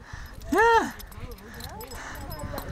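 A dog on the summit of Mount Democrat gives one clear, close whine, then softer whimpers under talk.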